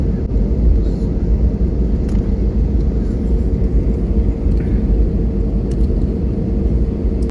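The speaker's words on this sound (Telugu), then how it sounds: "ఫ్లైట్ అయితే టేక్ ఆఫ్ అయిపోయింది" A loud, steady low roar of an airplane taking off on a Hyderabad to Kochi flight fills the clip, heard from inside the cabin with faint voices beneath.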